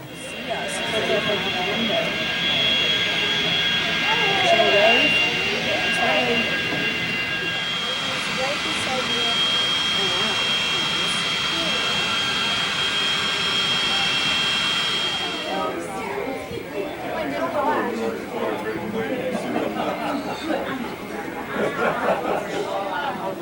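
Jet aircraft at Missoula Airport, a loud steady engine whine and roar that holds for about fifteen seconds, then gives way to a busy mix of people chattering nearby.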